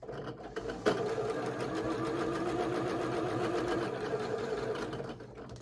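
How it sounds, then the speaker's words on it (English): Sewing machine stitching quilt block pieces for an antique tile sampler block, a continuous close, steady motor whir with rapid needle rhythm starting after a brief pause and running nearly to the end. "And let's sew this last one through."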